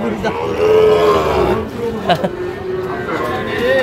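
Sahiwal calves and cattle at a livestock market in Habiganj, with a drawn-out low moo standing out from steady crowd chatter and nearby talk.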